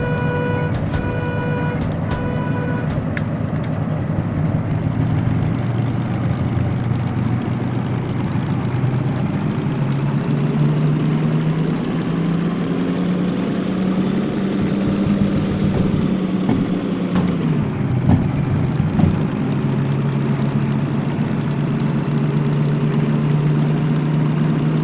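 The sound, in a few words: locomotive engine running in video game Derail Valley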